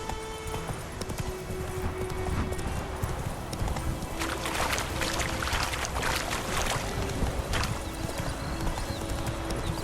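Roach, a horse in The Witcher 3, gallops with a fast rhythmic clip-clop of hooves close by, broken by brief whinny-like sounds and some splashy, rushing ambience.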